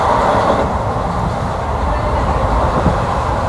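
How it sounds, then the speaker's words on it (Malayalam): Continuous rumble and rush of the Mangaluru–Coimbatore Intercity superfast express at speed, approaching Kanhangad, steady and fairly loud, with a brief clack of wheels near the end. "ട്രെയിൻ നല്ല സ്പീഡിലാണ് കേട്ടോ പോകുന്നുള്ളത്."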